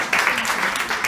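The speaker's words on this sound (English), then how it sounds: "Please hold the applause." Audience applause at a magic levitation performance: a steady wash of many hands clapping, fairly close and loud, filling the whole moment with no voices over it.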